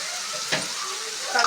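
Tomatoes being stirred in a hot pan give a brief close sizzle with a soft scrape and a small burst of spattering toward the end.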